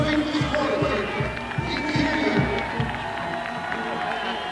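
A stadium crowd of about 4,000 at an Arizona United SC versus Real Monarchs SLC soccer match, a steady roar rising into cheers in stoppage time, heard under a commentator talking throughout.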